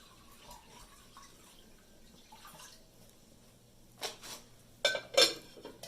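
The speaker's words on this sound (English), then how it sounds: "now what I'm going to do is I am going to pour this water in here" Water is poured from a container into another vessel holding a penny, a short splashing burst that rises loud near the end after quieter handling sounds.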